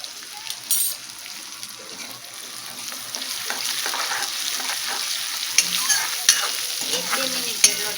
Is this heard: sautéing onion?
yes